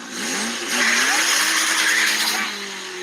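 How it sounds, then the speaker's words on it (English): A race car engine with a turbo revs loudly and close by, its roar rising and swelling with gliding whine tones that climb in pitch before easing off. "You hear the turbo?"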